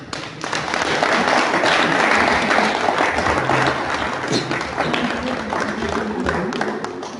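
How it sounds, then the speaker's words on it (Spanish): An audience at a book launch on the Russia–Ukraine war applauds the author: loud, close clapping that rises quickly, peaks around the second and third seconds, and then tapers gradually while still continuing. "los invito a que pongamos atención a nuestro autor y le"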